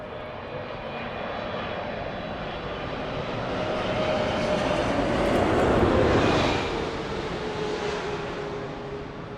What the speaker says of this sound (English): I think another plane's coming.